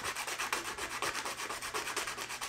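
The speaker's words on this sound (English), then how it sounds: "I'm going to make just a little bit of a bevel as I sand it" Sandpaper rubs a small bevel onto the end of a split wooden chair leg. The close, steady scratching carries a quick back-and-forth rhythm, with no voices.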